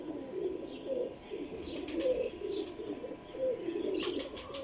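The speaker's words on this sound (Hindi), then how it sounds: "प्योर टैडी कबूतर है माशाल्लाह जी" Teddy pigeons coo softly in a steady, repeating rhythm, with faint chirps and wing flutters against a low background hiss.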